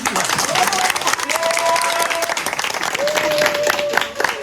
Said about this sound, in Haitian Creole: Nous vous applaudissons, madame.